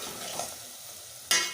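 Turmeric and ground coriander lightly roasting in a pan for a turnip bhujiya, a soft low sizzle with a brief stir and scrape, followed by two short louder clatters of the spoon near the end.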